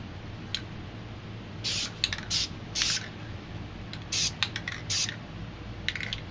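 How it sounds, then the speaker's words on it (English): Spray paint can hissing in several short bursts of varying length, close and fairly loud, with quiet gaps between, as paint is sprayed through a planet stencil. "So now I'm going to spray some black into this planet stencil"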